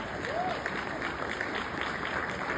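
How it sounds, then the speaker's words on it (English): A crowd applauds steadily throughout, a dense patter of clapping that neither swells nor fades. "I want you to give yourselves a round of applause"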